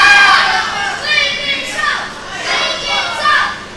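A wrestling crowd cheers and chants in swelling waves to rouse a wrestler, a loud, continuous roar of many voices.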